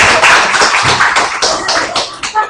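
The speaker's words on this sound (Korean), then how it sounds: "박수 한번 주시죠" A church audience claps loudly and close by, a dense flurry of overlapping claps that stays strong throughout before breaking into a few separate bursts near the end.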